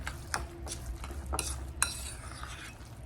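A salmon croquette mixture is stirred in a bowl, with soft repeated scraping and a few clinks of a utensil against the dish in a quiet kitchen.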